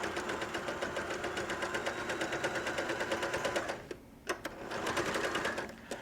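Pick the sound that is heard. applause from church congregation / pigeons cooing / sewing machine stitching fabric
sewing machine stitching fabric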